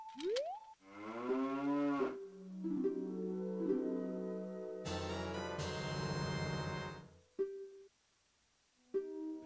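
Cows in the Ocarina of Time video game moo in several long, tonal, synthesized calls, some rising and some sustained, loud and clear with short gaps and no talk over them.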